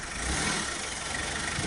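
A car engine runs steadily at low revs as the vehicle slowly backs up, a continuous mid-level hum with no talk in this stretch.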